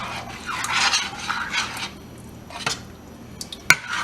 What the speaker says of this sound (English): Go ahead and stir those in.